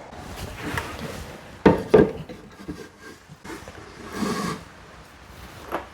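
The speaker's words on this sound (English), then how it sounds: "I do want to give this a really good scrape and make sure we get every single bit out" A utensil scraping vanilla bean paste from a jar, giving irregular rubbing and scraping sounds with a few sharper clinks against the glass, close and fairly loud, with pauses between strokes.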